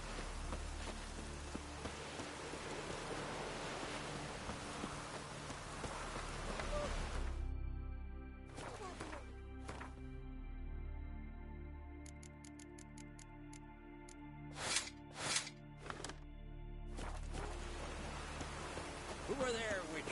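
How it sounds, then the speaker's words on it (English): Steady rain patters on a surface, a broad continuous hiss that briefly drops away and returns, with scattered ticking drips near the end. "Raining again."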